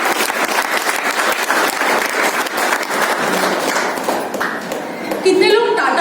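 An audience bursts into sustained, dense applause at a motivational talk on women's empowerment, with steady clapping filling the space before a voice cuts in near the end.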